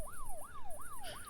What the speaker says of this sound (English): You do hear in the distance sirens